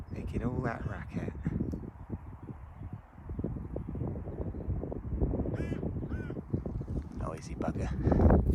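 A single crow caws loudly and repeatedly on a countryside walk between Winchester and Cheriton in England, its harsh calls standing out over steady wind and the walker's movement.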